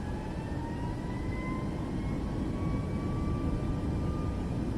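Boeing 737 MAX 8 jet takeoff in Microsoft Flight Simulator 2024, with a steady, dense engine roar and a slowly rising whine, continuous and loud with no talking.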